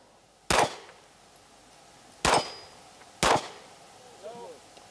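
Three sharp pistol shots at a shooting competition stage, spaced about two seconds then one second apart, loud and close against an outdoor background with faint chatter.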